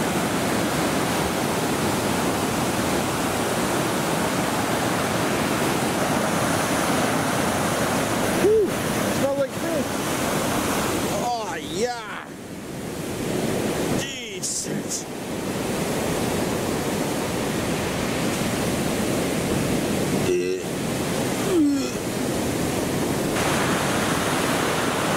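Waves on the Lake Erie shore wash in a steady, loud, noise-like roar that continues throughout, with brief interruptions from handling or wind.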